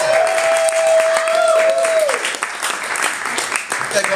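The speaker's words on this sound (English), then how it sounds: "give me a big round of applause for Jesse Hensley" Comedy club crowd in Austin, Texas applauds for comedian Jesse Hensley, loud close clapping with cheers and a host's voice talking over it, plus a brief sustained tone early on.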